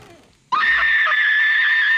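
A woman screams in the horror film The Ring, a sudden, loud, sustained high-pitched shriek that breaks in after a brief quiet moment and holds steady to the end.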